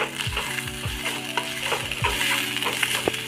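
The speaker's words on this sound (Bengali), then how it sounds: "আপনারা এরকম করে ভেজে নেবেন।" Food sizzling in a pan with coriander leaves and salt, steady close crackling frying under a series of rhythmic scraping stirs and a few small clinks.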